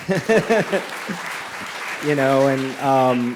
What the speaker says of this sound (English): And yes, we can clap for that.